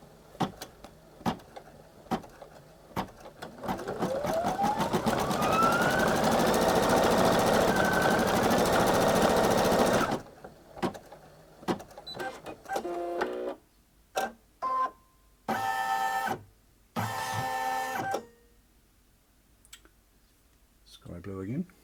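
A Brother Innov-is NQ3700D embroidery machine stitching a Disney design, starting with scattered clicks, then a long loud steady whirring run with a rising motor pitch, followed by short stop-start bursts of stitching separated by silences.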